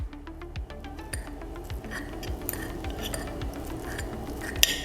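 Slow-cooked pork butt for puerco pibil tacos being shredded with utensils, a steady run of light metallic clicks and scrapes against a dish, close and fairly quiet, with a sharper clink near the end.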